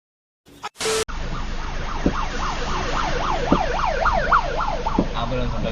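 An ambulance siren wails in a fast rising and falling pattern as it passes a cab on a Bangalore road, loud and steady over the rumble of traffic heard from inside the car.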